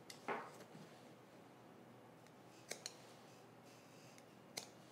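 Sharp scissors snip small clips into fabric at the neckline of a trench coat being sewn, a few quiet separate cuts spread over several seconds with no talking.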